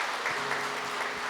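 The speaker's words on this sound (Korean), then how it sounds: "수고하신 선교부에도 박수 한번 해주시기 바랍니다" A church congregation at a Sunday service claps together, a brief continuous patter of many hands in a reverberant hall, moderately loud with a faint low tone beneath.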